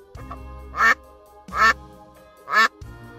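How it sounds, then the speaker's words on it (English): A duck gives three separate nasal quacks, close and fairly loud, evenly spaced with short quiet gaps between them. "Duck."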